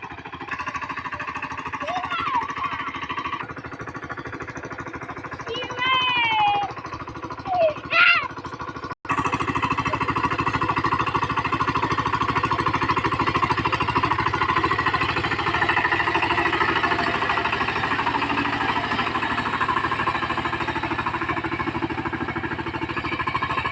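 A farm vehicle engine runs steadily and close by, a continuous mechanical drone that dominates the latter part. Earlier, softer sounds and chirpy tones come before an abrupt cut.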